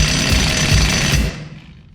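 Milwaukee impact wrench hammering loose an over-torqued shock bolt on an old OBS Ford F250 7.3, a loud rattling burst of just over a second that cuts off and fades.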